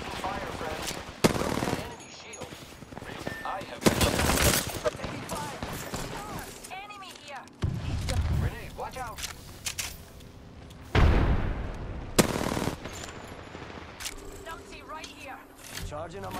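Rapid bursts of automatic gunfire and single shots crack out in an Apex Legends ranked Arenas match, loud and intermittent, mixed with in-game character voices calling out.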